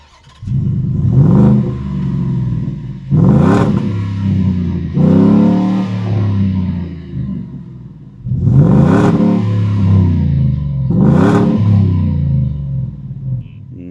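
Ford F-150 with a Coyote 5.0-litre V8 revved hard four times, each sharp blip rising and falling back to a burbling idle between, loud and close with no talk.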